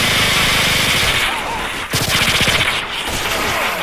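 Loud, continuous automatic gunfire from the futuristic shooter Call of Duty: Future Warfare, rapid repeated shots with a brief break partway through, dense and close throughout.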